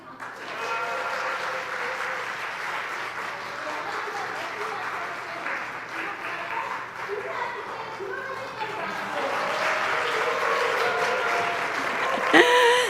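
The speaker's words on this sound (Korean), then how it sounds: "박수 한번 주세요." Audience at a church teacher-education seminar applauds in a steady, moderate wash of clapping that lasts several seconds, with faint murmuring underneath and a brief bump near the end.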